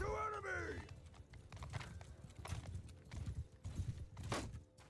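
Cavalry horses galloping in the video game Mount & Blade 2 Bannerlord, a rapid, uneven drumming of many hooves beneath battle clamour, opening with a brief whinny-like cry.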